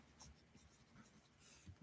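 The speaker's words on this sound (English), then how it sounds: "So I'm just going to write down 100" A pen scratches faintly across paper while numbers are written by hand, with quiet intermittent strokes and a brief louder knock at the very end.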